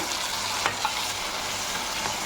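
Ground tomato paste sautés in a pan for bun masala, making a dense, even sizzle with a couple of brief stirring scrapes, close and without speech.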